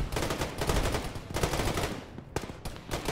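Gunfire in the military video game Arma during a ShackTac infantry and tank battle: rapid automatic bursts and loud repeated shots crackle close by in dense volleys with only short gaps.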